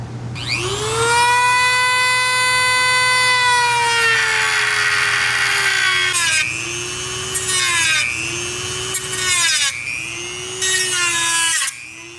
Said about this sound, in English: So we went around the entire new grille with the plastic cutoff wheel, and we cut some relief cuts